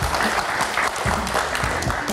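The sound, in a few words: audience applause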